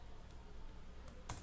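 Keys pressed on a computer keyboard during software work, heard as a couple of brief, faint clicks over steady background hiss.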